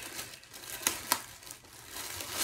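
Packaging crinkles and rustles while a pair of chartreuse Moonlight Rollers Peridot MoonBoot quad roller skates is unboxed, with a soft steady rustle and a few sharper crackles standing out, close and fairly quiet, with no talking.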